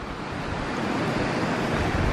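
Steady rushing flow of a mountain creek beside a campground in the John Muir Wilderness on a cool, breezy morning, a continuous broadband wash of water with no pauses, fairly close and even in level.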